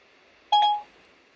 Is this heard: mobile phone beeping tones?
yes